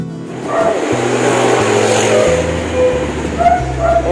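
Voge 650 cc motorcycle engine revving up and down in stepped bursts, loud and close, with a low throbbing exhaust note that shifts pitch between blips.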